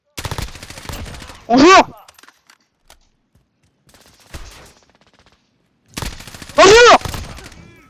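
Gunfire in a Call of Duty multiplayer match: dense, loud rattling bursts near the start and again around the six-second mark, separated by near silence. Brief spoken greetings come between the volleys.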